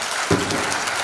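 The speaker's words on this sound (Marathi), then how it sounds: "एकदा टाळ्या" Brief burst of audience applause at a lecture on social change, a short swell of clapping rising from a steady crowd hiss.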